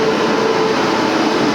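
A continuous low rumble and roar of a train arriving at a station close by, broad and steady without clear pauses.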